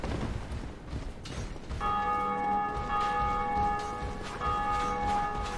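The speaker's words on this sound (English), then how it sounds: "People are already ringing the bell." A church bell in Dark Souls Remastered rings out with a sustained, resonant tone starting partway through and lingering to the end, over a dim, rumbling game ambience with no talk.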